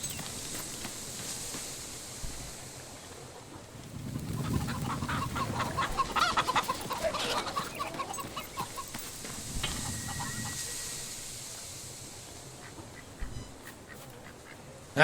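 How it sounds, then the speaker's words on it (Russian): Chickens in a video game clucking and squawking in a busy overlapping flock, with sharper bursts around the middle, over a steady ambient game backdrop. "Так, где мои куры?"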